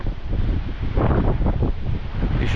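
Strong wind gusting at the foot of the Cirque de Gavarnie waterfalls in the Pyrenees, a loud, continuous roar of buffeting wind noise that swells and surges over about two and a half seconds.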